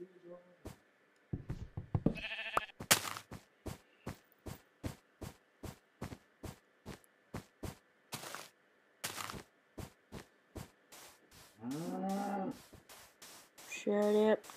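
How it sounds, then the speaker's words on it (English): Cows mooing in Minecraft, a couple of low drawn-out moos among a busy run of rapid clicks and taps, with a voice speaking over parts of it. "Shut up, cow."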